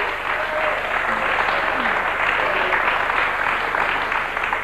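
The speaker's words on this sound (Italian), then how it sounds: "io faccio scemare naturalmente gli applausi, perché è giusto che se li goda gli applausi" Studio audience on an Italian TV show applauding a singer, a dense sustained clapping that stays loud and even throughout.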